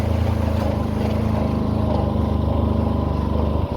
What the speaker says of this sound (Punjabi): ਮੋਟਰਸਾਈਕਲ ਸਾਡਾ ਮੰਨਦਾ ਨਹੀਂ ਦੇਖੋ ਜੀ ਚੜ ਗਿਆ ਜੀ